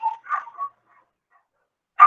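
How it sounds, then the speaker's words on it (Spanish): Dogs bark in a few quick, close yips and barks, then fall silent before one more sharp bark at the end, with no talking. "Los perros, ya."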